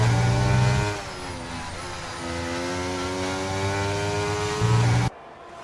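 Lando Norris's Formula 1 car on the final lap of the Austrian Grand Prix screams through a high engine whine that drops and climbs with gear changes, loud and continuous before cutting off abruptly near the end.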